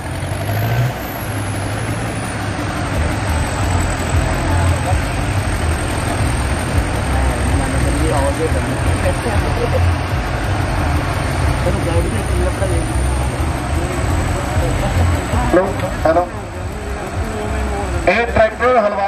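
A Preet 6549 tractor engine drones at a disc harrow competition, a loud continuous low rumble with a whining tone, someone commentating over a loudspeaker throughout amid crowd noise.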